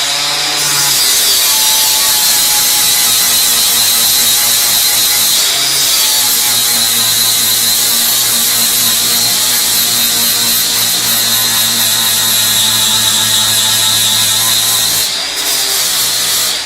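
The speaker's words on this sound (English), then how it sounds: "Let me grind that off and then start over in that area." A power grinder works steadily on metal in a car engine bay, a loud, harsh, continuous whine with brief breaks near the start, middle and end.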